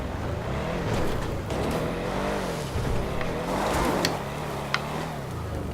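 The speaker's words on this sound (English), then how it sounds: "we're gonna try to scale this thing and see how the car handles" Canis Freecrawler off-road car in GTA 5 Online, four-wheel drive, climbing a nearly vertical wall; a steady, loud engine drone with shifting revs runs throughout, with a few sharp clicks and taps near the end.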